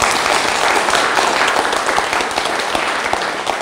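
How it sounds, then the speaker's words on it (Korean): An audience applauds during a Korean history lecture on Yeo Un-hyeong's speech at Tokyo's Imperial Hotel: dense, steady clapping from many hands, loud and continuous, fading slightly toward the end, with no voices over it. "박수 한 쳐 주십니다."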